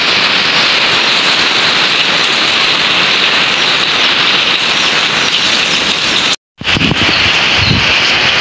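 Heavy rain pours down during Typhoon Paulo in Isabela under signal no. 3 winds: a loud, steady, dense downpour hisses throughout, broken by one abrupt brief dropout near the end before the rain resumes.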